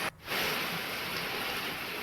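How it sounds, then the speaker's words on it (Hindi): Heavy rain in Jodhpur, a steady dense hiss of downpour that starts abruptly after a brief gap and continues evenly and loud without voices. "कई इलाकों में जमकर बारिश हो भी रही है"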